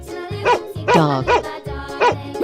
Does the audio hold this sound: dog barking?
yes